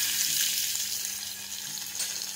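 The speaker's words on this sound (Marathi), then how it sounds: "आणि मग आता याच्यामध्ये थोडंसं तेल टाकायचं आहे आणि याच्यात आता आपण कांदा टाकणार।" Chopped onion frying in a little hot oil in a pan while lentil vada bhaji is being made, giving a steady, close crackling sizzle with no break and no talk.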